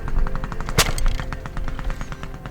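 A 1992 Kawasaki KX 500 two-stroke dirt bike fires up close by, loud sharp crackling pops and rapid staccato bursts of exhaust as the engine catches and revs.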